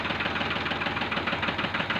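Tractor diesel engine with a fault, running steadily with a rough, repetitive knocking throughout, close and fairly loud with no talk.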